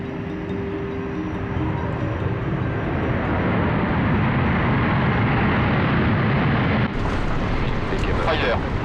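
An Airbus A380 lands at Rio Negro Airport during a flight test campaign, its jet engines giving a loud, steady broadband roar that persists throughout, with a brief shift in tone near the end.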